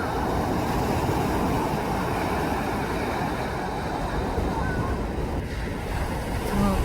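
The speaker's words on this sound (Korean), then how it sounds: "파도들이 오고 있는데요." Ocean surf at a Gangneung beach where surfers wait for big waves, a steady wash of rolling breakers mixed with wind noise on the microphone, loud and continuous throughout.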